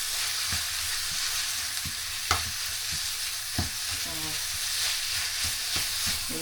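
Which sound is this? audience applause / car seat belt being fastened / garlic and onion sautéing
garlic and onion sautéing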